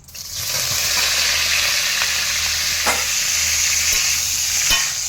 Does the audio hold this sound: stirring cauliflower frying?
yes